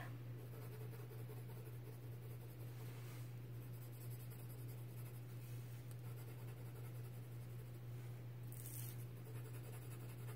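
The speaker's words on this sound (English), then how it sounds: "So I'm going to softly give myself some pencil that I'll be able to spread." A pencil shades on paper while drawing a parrot, a faint, steady soft scratching that runs continuously over a low background hum, with no speech.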